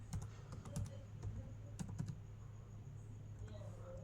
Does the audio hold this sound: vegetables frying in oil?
no